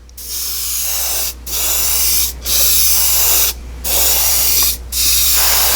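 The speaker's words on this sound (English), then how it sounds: "we're just going to go ahead and start shooting the chrome on here" AK Interactive chrome paint sprayed from an airbrush or spray gun, five loud sustained hissing bursts separated by short gaps, very close and alone.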